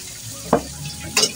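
Soaked buffalo sukuti drops into a hot pan with vegetables and mustard greens, giving two short bursts of sizzle and stirring against a quiet background.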